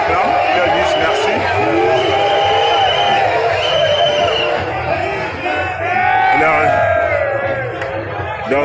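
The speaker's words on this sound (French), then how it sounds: "les gars acclament les scores du président national" A large crowd cheers and chants loudly at the release of Cameroonian opposition leader Kamto, a dense continuous roar of voices with yells and whoops rising above it, close and sustained.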